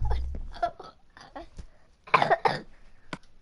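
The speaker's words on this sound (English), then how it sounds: "You're coughing your lungs out." A person coughs in several harsh, close bursts with a louder cluster near the end, heard over casual play in a Minecraft game session.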